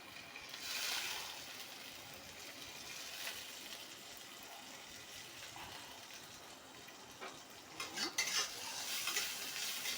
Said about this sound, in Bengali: চালটা, গোবিন্দভোগ চালটা আমি ভেজে নিচ্ছি